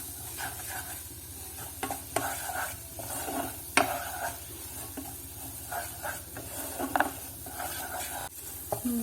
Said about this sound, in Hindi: अब मैं इसके अंदर ये जो 2 टेबलस्पून मैदा ये डाल के मैदे को रोस्ट करेंगे